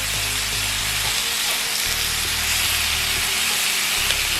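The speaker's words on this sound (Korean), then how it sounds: "같이 볶아주세요." Chili powder stir-fries in a hot pan for a Chinese-style jjamppong pasta, giving a loud, steady sizzle with a constant hiss and no voices.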